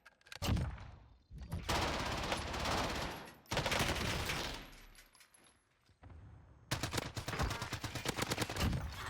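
Gunfire in a Call of Duty Warzone match arrives in loud bursts of rapid automatic shots, close-up with short gaps between volleys.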